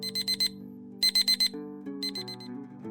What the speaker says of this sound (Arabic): رن منبه تليفونه بيفكروا إن الساعة 11 صباحا.